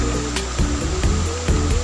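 Clear water pours steadily from a village spout into a pool, a close, full splashing rush with a slight rhythmic surge.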